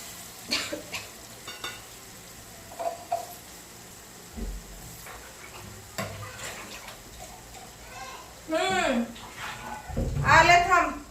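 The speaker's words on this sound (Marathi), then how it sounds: "आता डायरेक्ट मी शेंगाकूट आणि टमॅटोचं पेस्ट घालते भाजून" Crushed peanut powder and tomato paste are fried in a pan for a thin potato bhaji, making a soft sizzle with stirring, and a voice talks at intervals over it.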